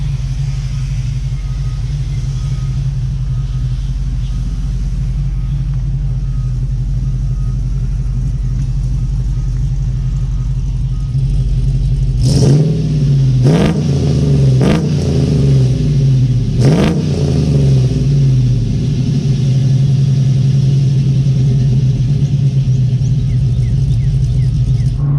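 A car with its catalytic converters removed and a stock muffler idles with a deep, loud rumble, then blips the throttle in several quick revs that rise and fall before settling back to idle.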